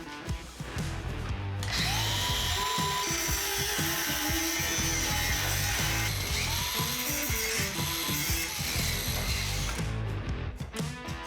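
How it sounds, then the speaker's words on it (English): A power tool cuts through an aluminum support on a Mk5 Supra trailer build, a loud, continuous whining buzz with grinding harmonics that holds steady for around ten seconds, close and alone. "So now we can cut off this main support right there, the aluminum one"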